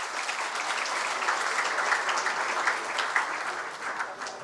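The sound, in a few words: audience applause at award ceremony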